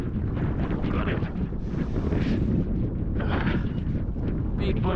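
Strong wind buffets a fishing boat out on the water, a loud continuous roaring rumble with gusty swells and a faint murmur of wave wash beneath.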